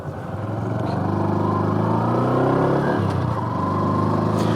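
A Honda Super Cub with a 15-tooth front sprocket being ridden, its small engine droning steadily and rising in pitch as it accelerates, then dropping briefly for a gear change before pulling again, close and continuous.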